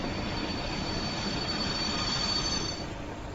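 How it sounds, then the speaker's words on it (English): Diesel exhaust of a blue Class 31/1 locomotive in Train Sim World 3, a steady loud rumble with rail running noise that holds throughout and eases slightly near the end, with no talk. "That's the exhaust for this train."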